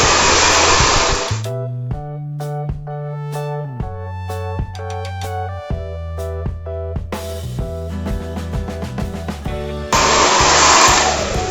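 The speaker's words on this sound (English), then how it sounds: "just blow drying it in the direction that the hair grows" A hair dryer blows hair dry while cutting a short bob, a loud steady whoosh at the start and again at the end, with music playing alone in between.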